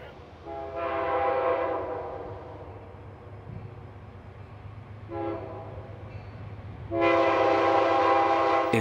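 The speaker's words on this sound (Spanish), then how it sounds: "El tren sigue viajando rumbo al norte." A northbound passenger train sounds its horn in three loud, sustained harmonic blasts of varying length over a constant low rumble of the moving train.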